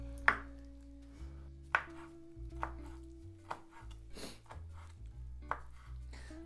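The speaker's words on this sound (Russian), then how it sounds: "Ну, вот так вот на такие средненькие фракции я порежу грибочки" Knife chopping honey mushrooms into medium pieces on a cutting board, a slow series of about eight crisp, distinct chops close by, with a faint background hum and no talking.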